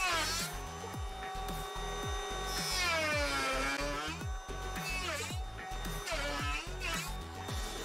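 A Ryobi-tested handheld electric planer whines loudly, its motor pitch climbing and dropping as it cuts in repeated passes, with an attached vacuum humming underneath.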